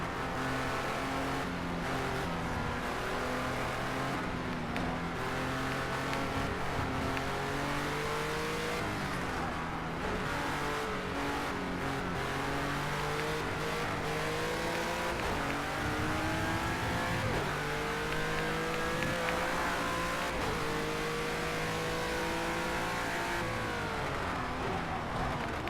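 A Renault race car engine in a video game revs and drones steadily throughout, its pitch climbing and dropping with gear changes as it accelerates, loud and continuous with no talking.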